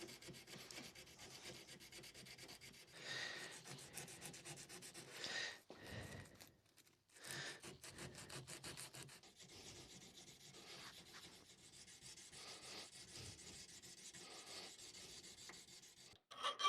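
A knife blade is sanded by hand with 180 grit sandpaper, giving steady close rasping strokes that run nearly continuously, with two short pauses partway through.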